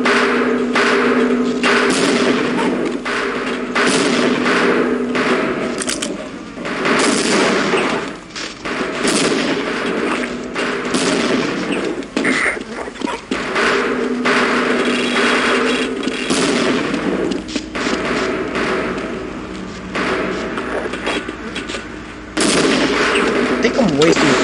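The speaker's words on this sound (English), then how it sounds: "I think I'm wasting precious grenades." Grenade blasts and rapid gunfire in the shooter game Half-Life, dense and loud throughout with repeated heavy thumps and bursts of shots, a brief lull near the middle before the combat noise resumes.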